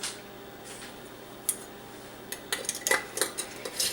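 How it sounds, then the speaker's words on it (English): A metal lid and rim are screwed onto a sterilized glass mason jar, giving soft scrapes and then a run of quick clinking, ticking clicks near the end; quiet and close. "And then you're just going to put your top on."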